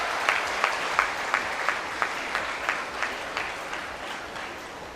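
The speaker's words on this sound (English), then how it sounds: "A big round of applause for Honorable VC" At a university orientation day, people applaud the Vice Chancellor in a fairly faint hall, with scattered claps that fall into a loose rhythmic beat and fade slightly toward the end.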